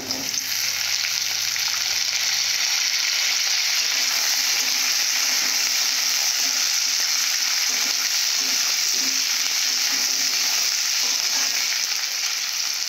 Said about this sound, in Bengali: তো কলাগুলো আমি ভেজে নেব আগে